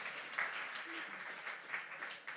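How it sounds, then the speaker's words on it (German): Audience members at an ICF church service applaud themselves, a broadband patter of clapping with cheering voices and a few shouts rising through it. "Könnt ihr euch mal einen Applaus geben?"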